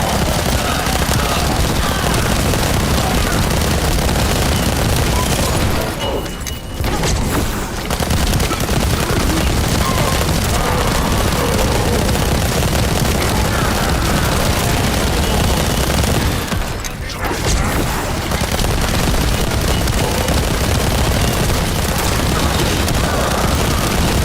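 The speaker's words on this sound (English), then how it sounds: "Explosions!" Dense, continuous gunfire and explosions fill a combat scene in the shooter video game The First Descendant, loud and relentless with rapid automatic fire and booms, briefly dipping twice before resuming at full intensity.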